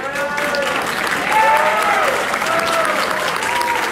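Audience applause at a 2019 mayoral debate, steady clapping filling the room for the whole stretch, with some voices mixed in underneath.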